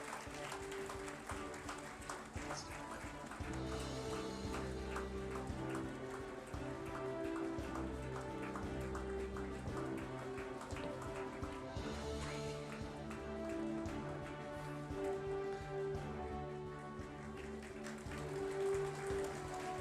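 Dense, sustained applause from an awards night audience during a final group photo, a rain-like patter of many hands running throughout alongside music with steady tones.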